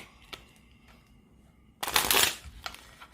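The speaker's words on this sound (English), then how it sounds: "One more shuffle for good measure" Deck of playing cards being shuffled, a brief rapid riffle of fluttering card edges bursting out after a few soft handling taps, close and fairly loud, followed by a couple of light clicks.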